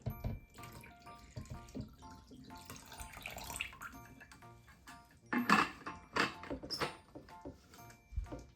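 Water pours and splashes intermittently into a toy pet tank, with gurgling bursts and faint drips between pours, close but fairly quiet.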